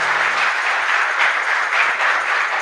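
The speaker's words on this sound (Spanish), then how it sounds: "un fuerte aplauso para el Padre" Applause from a church congregation for the priest at a Santa Rosa de Lima novena Mass in a chapel in Asunción: steady, dense clapping throughout, moderately loud with no voices over it.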